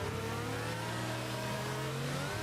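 An F1 car engine revs high and steady during an overtake at the Emilia Romagna Grand Prix in the F1 22 racing game, a continuous loud whine with several harmonics rising and falling slightly, with no talk over it.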